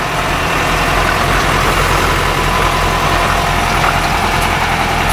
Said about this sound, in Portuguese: vai ele aí de primeira marcha